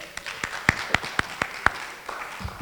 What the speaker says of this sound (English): Clap for us.